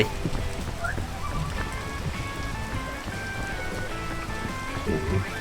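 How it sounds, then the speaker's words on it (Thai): Rain falls steadily, a soft continuous patter and hiss with scattered drips, under background voices and music. "ฝนตกครับ"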